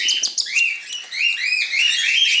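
Cockatiel chicks chirp during hand feeding, giving a close, rapid run of high, thin peeping calls and rising squeaks that overlap almost without pause across the whole moment.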